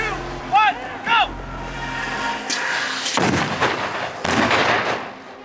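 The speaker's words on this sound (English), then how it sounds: "There are 2 explosions that go off in this shot." Stunt explosions on a film set, two heavy booming blasts with crackling debris and rumble following, loud and close after brief whistling tones, with people talking nearby.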